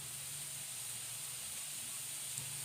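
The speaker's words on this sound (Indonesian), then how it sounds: "ini kita tumis secara bersamaan sampai benar-benar aromanya ini wangi ya" Ground spices and crushed aromatics sautéing together in a pan for beef semur, a steady soft sizzle and hiss with no talk.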